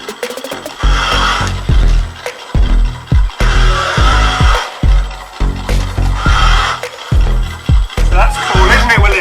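A Monster Jam toy monster truck from a dirt arena set gives off loud, close electronic revving bursts in a choppy, repeating rhythm, with brief gaps between each surge and some talk mixed in.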